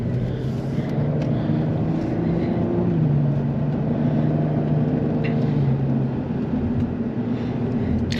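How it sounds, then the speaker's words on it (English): 2022 Cadillac CT4-V Blackwing driving on a track, its exhaust giving a low, steady burble and drone heard from inside the cabin, continuous with slight pitch shifts. "you can hear that nice little burble and that exhaust sound"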